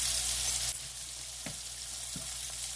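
A salmon dinner sizzles in a pan while the rest of the meal cooks, giving a steady close frying hiss with a couple of brief stirring clicks and no talk.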